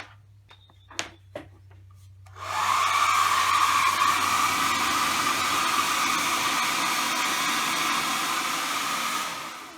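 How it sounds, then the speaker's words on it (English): A couple of faint clicks, then an old hair dryer switches on and blows with a loud, steady whooshing whine close up for several seconds, drying moisture out of a Toyota Celica headlight. "I'm going to use just an old hairdryer just to see if I can actually dry the moisture out"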